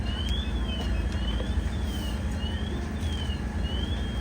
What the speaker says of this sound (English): You hear the second alarm units coming in.